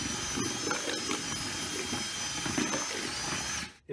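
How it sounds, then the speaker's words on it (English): A cordless drill fitted with a paint mixer whirs steadily up close with a constant high whine and churning, gritty texture, running continuously before abruptly stopping at the end. "the paint mixer that I'm using attached to my cordless drill"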